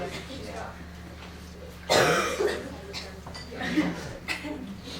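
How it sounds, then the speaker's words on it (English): One sharp cough breaks out midway over a low room hum at a school speech event, followed by a softer throat-clearing sound a moment later. "I guess this is the high school cough."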